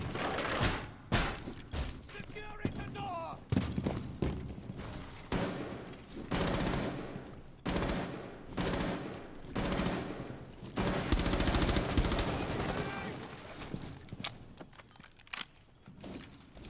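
Sustained automatic gunfire and rapid shots in the tactical shooter Rainbow Six Siege, on the Salt Mines map, coming in dense bursts with short pauses across the clip, loud and close with a few mechanical clanks.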